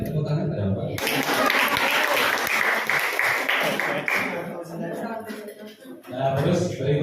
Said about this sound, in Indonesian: Ya tepuk tangan ada apa?